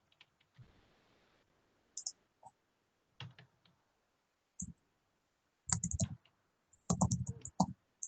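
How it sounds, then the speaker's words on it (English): Irregular bursts of clicking keystrokes on a computer keyboard as someone types while building interactive H5P content in Moodle, close and moderately loud with short pauses between runs of keys. "again, please do excuse my typing."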